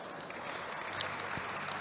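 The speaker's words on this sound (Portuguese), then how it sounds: "Merecem os aplausos." Audience applause at a mobility conference opening, a steady wash of many hands clapping at moderate distance, continuous and even throughout without a clear peak.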